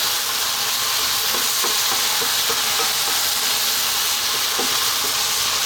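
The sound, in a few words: ground beef noodles stir-frying in a pan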